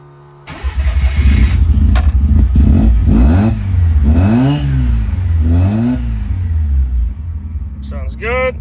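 A 1976 Mazda RX4 engine cranks and fires, then revs repeatedly in loud rising and falling sweeps close by before settling to a rumbling idle.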